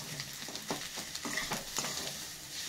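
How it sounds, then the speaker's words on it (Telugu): Egg frying in a pan for egg Maggi noodles, a soft, steady sizzle with quiet scraping strokes as it is turned, faint and close, with no talk. "గుడ్డు ఫ్రై అయితేనే మంచిగా ఉంటుంది"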